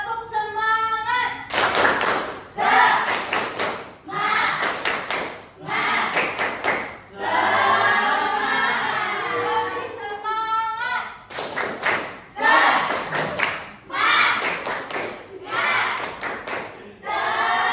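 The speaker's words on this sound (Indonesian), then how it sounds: "Oke, kita tepuk semangat dulu ya." Schoolchildren in a second-grade class clap together in a rhythmic pattern, bursts of claps alternating with shouted chanting and breaks of voices, fairly close and loud throughout.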